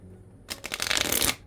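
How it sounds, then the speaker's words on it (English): A deck of bendy Japanese cardstock playing cards is riffle shuffled once, a short close burst of rapid fluttering card snaps lasting about a second. "So I can easily riffle shuffle this deck,"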